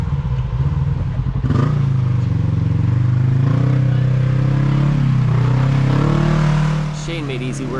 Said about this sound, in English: now we got Shane hitting it in his RZR XP 1000 Rockin' Trail